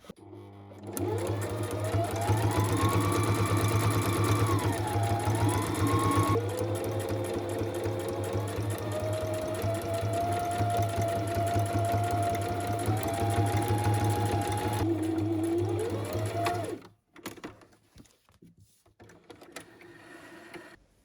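A sewing machine runs steadily for about sixteen seconds, stitching fabric bookmarks made from scraps and paper bags through straight, wide zigzag and decorative stitch patterns, with its motor whine shifting pitch slightly before stopping abruptly.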